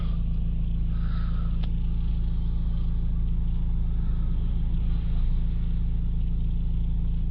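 A Ford Transit Custom 2.0 diesel van engine held at steady high revs of about 3000 RPM, with an air-flow fault, droning continuously and evenly close by with no talk.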